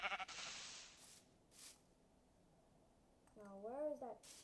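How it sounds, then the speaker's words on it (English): Minecraft sheep bleating in the game, one wavering bleat near the end after a quiet stretch with a few brief noises, while a person speaks over it. "Now, where is that sheep?"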